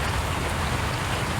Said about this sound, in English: There's too much rain for me to see.